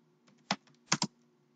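Keys tapped on a computer keyboard while writing Java code, a few soft, close clicks in a short irregular cluster against quiet room background.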